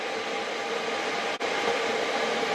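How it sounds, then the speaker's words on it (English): Electric kettle heating water for sterilising jam jars, a steady loud broadband rushing hiss near the microphone, continuous throughout with one brief dip partway, no talk. "apologies for the noise, I'm boiling up the kettle"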